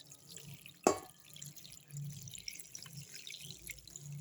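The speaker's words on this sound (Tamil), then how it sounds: "ஒரு கிண்ணம் ஃபுல்லாக தண்ணி ஊற்றிக்கலாம்" Water pours quietly into a bowl of salted ingredients in a home kitchen, a soft, low trickle with one sharp clink near the start.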